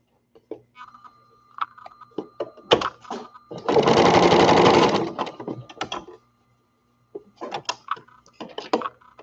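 A sewing machine stitches fabric for a baby drool scarf in short, rapid bursts of mechanical whirring, with one longer sustained run in the middle and scattered clicks and handling noises between bursts.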